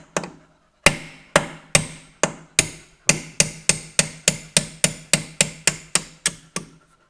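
A punch is hammered against the slider pins of a Range Rover L322 brake caliper, giving about seventeen sharp metallic strikes. They come singly at first, then in a quickening, steady rhythm, close and loud with no talk.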